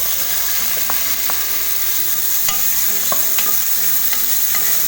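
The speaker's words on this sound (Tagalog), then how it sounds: "saute natin itong ating kamatis, sibuyas, and ginger" Tomatoes, onions and ginger sautéing together in a pan for pork sinigang, a loud steady sizzle with repeated sharp scrapes and taps of a utensil stirring, close up and without speech.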